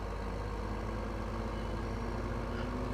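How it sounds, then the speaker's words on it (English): Trailer noise from a farm vehicle in Farming Simulator 15, a steady, continuous low engine-like rumble with a constant broadband hiss. It sounds alone and even throughout, with no speech. "That trailer noise sometimes is irritating."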